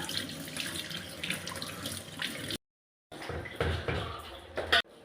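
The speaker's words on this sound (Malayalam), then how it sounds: "ഒന്നുകൂടി ടാപ്പിലെ വെള്ളത്തിലൂടെ നമുക്ക് കഴുകിയെടുക്കാം" Bitter gourds being rinsed under a running kitchen tap: a steady, close splashing gush of water that cuts out briefly midway, then resumes with small clattering knocks.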